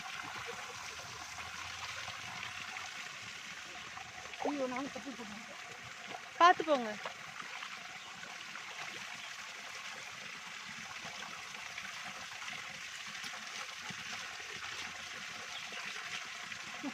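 Spring water from a stream at Vellingiri flows in a steady, faint rushing hiss throughout, with a brief voice speaking partway through.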